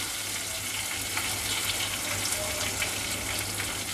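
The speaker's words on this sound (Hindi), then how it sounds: "हरी मिर्च जो है वो भी डाल देंगे। इसको अच्छी तरीके से चलाना है।" Onions and green chillies frying and being stirred in a pan, a steady close sizzle with soft scraping throughout, no voices.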